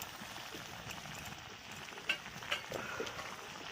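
Okra (lady's finger) fries in a pan while being stirred, giving a steady close sizzle with a few sharp clicks and spatula scrapes, no voices.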